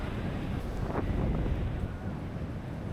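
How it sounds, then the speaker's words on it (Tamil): Strong wind buffets the microphone at a Kerala beach, a steady loud roar with surf rumbling underneath for the whole stretch. "காத்துதே பயங்கரமான காத்தா இருக்கு."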